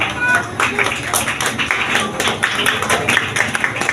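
An audience claps at a church Christmas celebration, scattered hand claps running under a voice speaking over the crowd.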